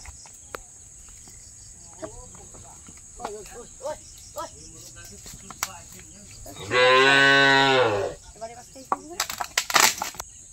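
A cow on a village farm lets out one loud, drawn-out moo midway, with crickets chirping, scattered knocks and rustles, and brief voices around it.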